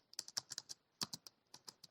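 Quick, light clicks of typing on a computer keyboard come in short bursts with a brief pause, close and quiet with no voices.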